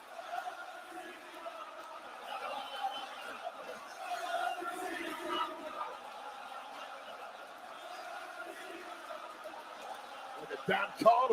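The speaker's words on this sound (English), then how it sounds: "this crowd is going crazy" A wrestling arena crowd at a WWE event roars and chatters in a continuous, distant-sounding wash of voices, rising in a few swells.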